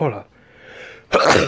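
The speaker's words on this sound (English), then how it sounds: "God, that was a big sneeze." A big, forceful sneeze bursts out loud and close after a brief spoken phrase, one sharp explosive blast that dominates the moment.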